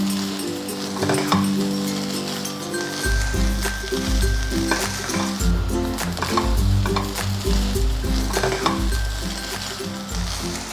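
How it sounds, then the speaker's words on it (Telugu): Egg fried rice made with leftover rice sizzles loudly as it is stirred in a hot pan, with steady frying hiss and repeated scraping strokes of a spatula against the pan. "మనం పొడి పొడిగా వండి పెట్టుకున్న రైస్ని వేసుకుని కలుపుకోవాలి"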